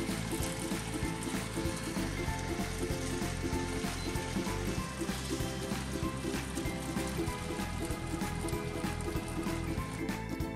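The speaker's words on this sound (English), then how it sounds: "將啲意粉同埋煙肉好好撈勻啦。 呢啲噼里啪啦噼里啪啦聲係咪好好聽呢？" Spaghetti and bacon crackling in a frying pan, a steady dense sizzle with rapid popping and clicking that carries on evenly throughout, close and moderately loud.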